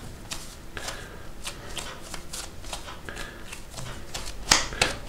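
Sourdough bread dough being folded toward the middle and kneaded by hand, giving a close series of soft, irregular slaps and sticky squelches with no talking.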